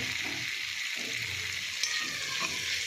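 Potatoes with ginger, garlic and onion sauté in a pan with a steady, close sizzle, broken by a few soft scraping stirs.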